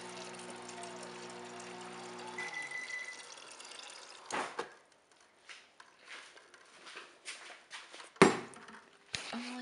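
Water runs from a tap into a cup at home in short bursts, with a steady stream early on, then a few brief splashes and drips, close and fairly quiet.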